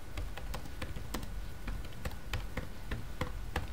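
Key presses on a computer keyboard, including the tab key, come as a quick irregular series of crisp clicks, close and fairly quiet against low background hum.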